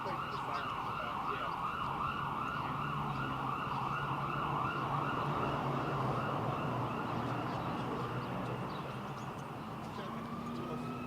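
Emergency sirens wail continuously through a Cleveland setting, steady and fairly loud over road traffic, with a voice speaking faintly beneath.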